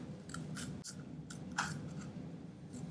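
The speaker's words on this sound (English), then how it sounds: "let's get cutting, and you can watch me cut" Scissors cut paper in a series of short, close snipping strokes over a soft background hiss, with a few crisp crunching cuts spaced irregularly.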